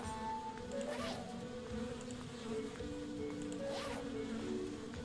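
Cartoon bees buzzing in the adventure game Kelvin and the Infamous Machine, a steady insect drone with whining pitch swells that rise and fall twice over a background music bed.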